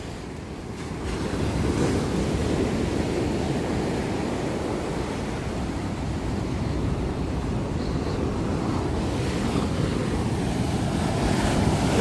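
Ocean surf washes up near the shore with a steady, loud roar, with wind buffeting the microphone throughout and no talking.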